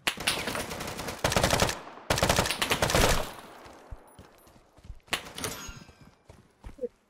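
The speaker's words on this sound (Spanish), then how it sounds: "Me dispararon de afuera." In the Deadside game, rapid automatic gunfire rattles in two loud sustained bursts, followed by scattered single shots and quieter clicks and thuds.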